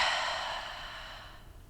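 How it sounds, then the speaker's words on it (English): A long, deep exhale during yoga breathing, a close airy breath that fades steadily over nearly two seconds, alone in a quiet room. "and a deep breath out."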